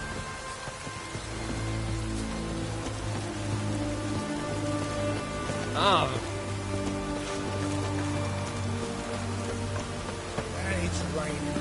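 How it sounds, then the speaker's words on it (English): Steady rain falls in The Witcher 3: Wild Hunt, a soft continuous hiss running under game music and ambience, with a brief louder effect partway through. "It's raining again."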